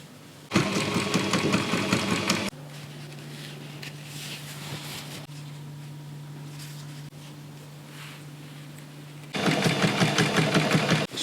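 Sewing machine stitching a medieval dress, heard in two close, steady bursts of rapid mechanical chatter, with a quieter stretch of room hum between them and no talking.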